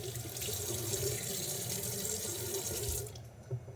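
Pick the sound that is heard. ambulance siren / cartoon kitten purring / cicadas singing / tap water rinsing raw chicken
tap water rinsing raw chicken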